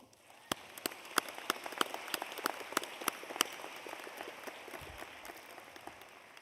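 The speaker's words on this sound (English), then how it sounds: "You deserve a round of applause for all of that you have done." Scattered audience applause at a university commencement ceremony, sharp individual claps standing out over a soft background patter, moderately quiet and thinning toward the end.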